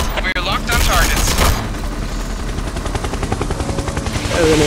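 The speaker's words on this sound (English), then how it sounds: "Oh, an airstrike." Airstrike in a VR shooter game played with a VR rifle stock: loud, dense bursts of explosive gunfire and rumbling impacts that run continuously, with a helicopter-like drone, and a voice talking over them.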